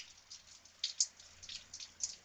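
Light rain dripping in a quiet setting, with soft, irregular drops tapping faintly and a few slightly brighter ticks scattered across the short stretch, no voices present.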